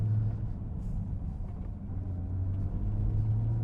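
An R35 Nissan GT-R cruises along a road, its engine giving a steady low drone and rumble from inside the car, with no one talking over it.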